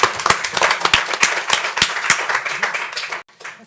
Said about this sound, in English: Let's give Elizabeth Hullings a nice round of applause.